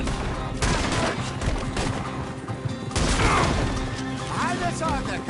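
Gunfire in a video game shootout plays as a continuous barrage of shots and crashes layered under game dialogue, with characters shouting throughout.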